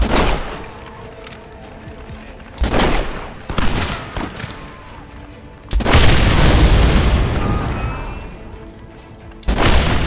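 Heavy gunfire and booming blasts from a Gatling gun battle in the western game Red Dead Redemption arrive in loud bursts separated by quieter gaps, with the longest roaring barrage in the middle.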